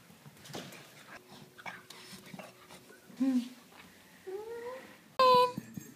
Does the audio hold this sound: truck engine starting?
no